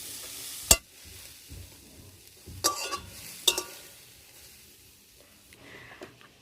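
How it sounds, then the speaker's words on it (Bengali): Cabbage frying lightly in a pan, a quiet sizzle broken by a few sharp spatula scrapes and clacks against the pan at irregular intervals. "বাঁধাকপিগুলোকে হালকা করে ভেজে নিয়েছি"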